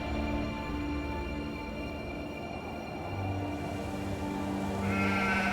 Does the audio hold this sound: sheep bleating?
yes